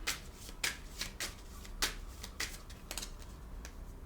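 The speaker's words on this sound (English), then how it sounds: "I'm going to pull some angel cards for you and we'll see what's coming out." A deck of angel cards is shuffled close by, producing a rapid series of soft riffling flicks and slaps over a low steady background hiss, with no talking.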